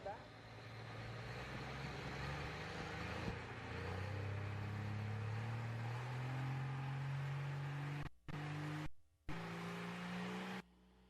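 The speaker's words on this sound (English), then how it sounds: "Heck of a run on that tractor." Modified turbo tractor roaring through a pull run on 24.5x32 Firestone rear tires, a loud sustained engine drone with shifting pitch that cuts out abruptly near the end, a crowd and announcer faintly underneath.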